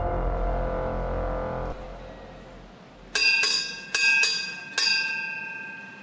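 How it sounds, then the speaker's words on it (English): Prison bell in Changi Prison, Singapore, ringing to alert inmates to sit for head count: a low hum cuts off, then three sharp bright metallic bursts of rapid clangs, loud and close. "The bell is to alert you to sit."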